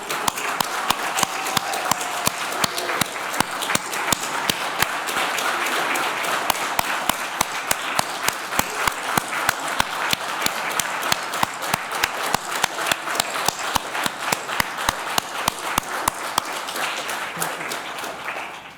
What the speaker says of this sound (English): Could we please have a sustained round of applause for Francesca?